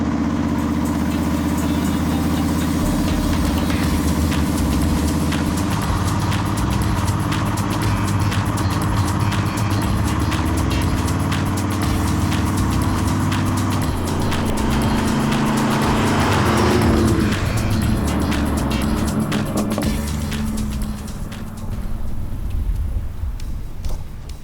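A 1997 Chevrolet OBS pickup with a swapped T56 six-speed manual gearbox drives along, its engine note droning steadily with rises and falls as it accelerates through the gears, loud and continuous, with road noise throughout.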